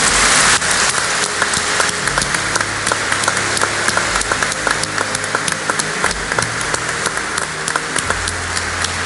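Sustained applause from a large audience at a business forum panel, dense steady clapping at a constant loud level throughout.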